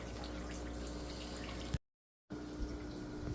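Water runs and trickles steadily as several shrimp tanks drain down, a close, continuous splashing flow broken by a brief cut to silence midway.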